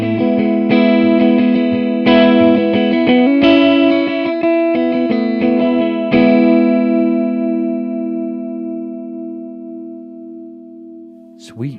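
An electric guitar plays chords through a Strymon Big Sky reverb pedal, the strums trailing into a long, smooth decay before a brief noise at the end.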